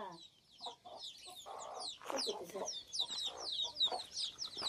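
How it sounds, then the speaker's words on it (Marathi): White and reddish chickens and chicks cluck and chirp close by in a farm setting, with repeated soft clucks and higher peeping calls overlapping in an irregular, lively pattern. "ते सगळ्या कोंबड्या आहेत"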